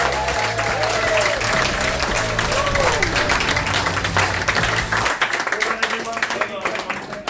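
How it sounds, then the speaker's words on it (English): A crowd at an outdoor town event in Charters Towers applauds loudly over fading music with low sustained tones, and the clapping continues dense and steady once the music stops. "Give yourselves a round of applause"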